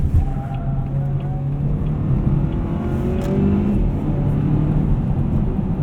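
A 2018 Volvo V60 T6 AWD R-Design engine revs loudly from inside the cabin, its pitch climbing and dropping as a traditional automatic gearbox shifts through gears by paddle.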